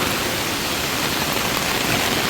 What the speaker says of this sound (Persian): بسیار یک باران و هوای بسیار تازه